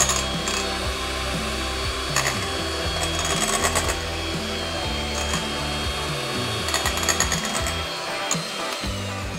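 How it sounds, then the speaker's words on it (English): A handheld electric whisk beats egg whites and caster sugar for meringue. Its close, steady motor whir shifts pitch now and then as it works through the mixture, with no talking. "you just want to continue beating as you add the caster sugar"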